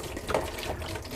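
Water pours from a 4-liter jug into a tub as a continuous close splashing gush, steady and moderately loud for the whole brief moment, with no voices.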